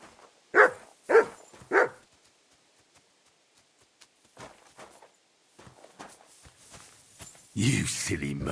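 Dog barking in the video game Kingdom Come 2, three sharp loud barks in quick succession, then quieter footsteps and scuffles, with speech near the end.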